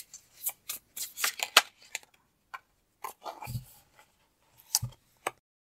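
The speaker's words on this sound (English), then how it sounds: "I'm going to pull a card with that." Tarot cards shuffled and pulled from a deck at a card reading, a series of short crisp riffles and flicks in bursts separated by brief silences, close and clear.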